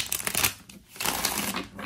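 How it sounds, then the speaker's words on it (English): A deck of tarot cards is riffle shuffled, giving a dense, rapid fluttering burst that dips briefly in the middle and then resumes, close up and without talking. "I'll allow a riffle shuffle because it mixes the cards up better."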